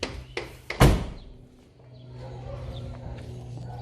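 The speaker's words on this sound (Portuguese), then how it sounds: "O porta-malas pode ser aberto por aqui" A car trunk lid is released with a lever: a couple of quick plastic clicks lead into a solid thud as the latch lets go, followed by a low hollow rumble as the lid lifts.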